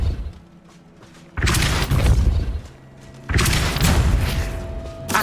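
Two heavy Depulso force-spell blasts from Hogwarts Legacy hit close and loud, one after the other. Each is a booming, thudding rush that sustains for about two seconds over a quieter game-ambience hum between them.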